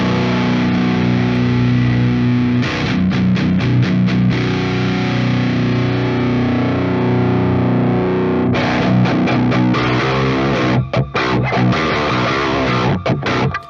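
Heavily distorted electric guitar through an amp-sim plugin, loud and continuous chugging riffs with rhythmic palm-muted stops, the tone shifting as the contour control is adjusted; no talking.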